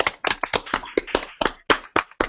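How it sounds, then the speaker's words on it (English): One person claps sharply by hand close to the microphone, about a dozen quick, uneven slaps with short gaps between them. "Clapping over here."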